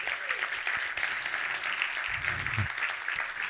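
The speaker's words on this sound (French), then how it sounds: "J'aimerais qu'on applaudisse Antoine dans la salle." Audience in a conference hall applauding a man named Antoine at an innovation event, a dense, even wash of clapping throughout with a brief low thump in the middle.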